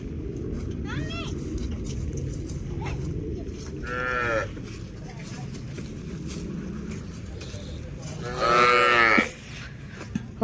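A newly bought cow moos on a farm, with two long lowing calls, a fainter short one early on and louder ones in the middle and near the end, over steady outdoor background noise.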